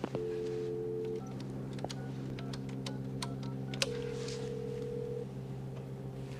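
Telephone dialing tones from a scene in the film Halloween III: Season of the Witch, two steady beeping tones with soft ticking clicks in between, over a low constant hum.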